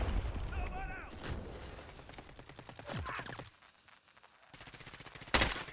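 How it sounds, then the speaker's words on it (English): Video game gunfire rings out in bursts and scattered shots, loud in places, with a sharp crack near the end, mixed with excited talk from players. "Shoot him."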